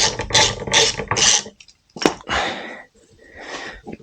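A ratchet loosens the brake caliper bolts on a Honda CBR650 during rear pad replacement, giving two close bursts of rapid clicking separated by brief pauses, then a softer sporadic clicking run.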